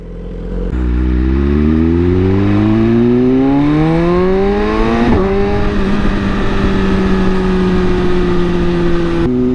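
A BMW S1000RR sport motorcycle with full carbon parts is ridden, its engine loud and close as it revs up through rising tones, shifts once, and then holds a steady high drone.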